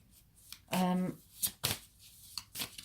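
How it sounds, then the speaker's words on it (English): Tarot cards shuffled by hand in a quiet room, one brief riffle followed by a few soft taps and slaps of the deck, close and fairly faint. "As I'm shuffling the cards"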